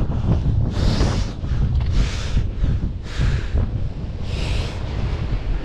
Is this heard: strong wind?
yes